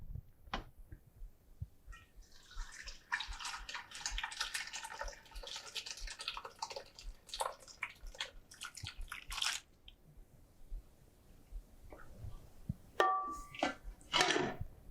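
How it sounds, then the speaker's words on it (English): Water trickles and splashes as it is strained off cooked mayhaw berries, in irregular bursts with soft drips and a few brief louder pours near the end. "we're just gonna strain off the water first"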